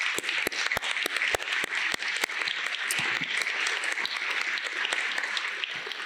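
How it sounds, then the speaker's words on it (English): An audience applauds at a chiropractic college transitions ceremony, a steady wash of many hands clapping with a few sharp, distinct claps standing out near the microphone. "I think it's very important to give them a round of applause because those are the people who support you."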